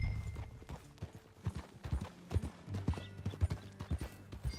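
Horses ride along in the Red Dead Redemption 2 video game, a steady stream of clip-clop hoofbeats with occasional snorts, fairly close and uneven in rhythm, no talk over them.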